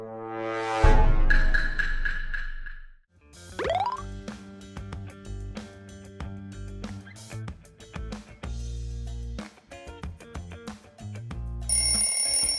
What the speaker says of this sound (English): That's the sound of Among Us!